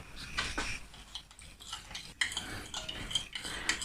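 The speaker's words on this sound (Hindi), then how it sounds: "अब इनको अच्छी तरह मिक्स कर लेते हैं।" Yogurt being stirred into a chicken tandoori marinade in a bowl, with soft wet scraping and a few light clinks of a spoon against the dish, close and fairly quiet, with no talking.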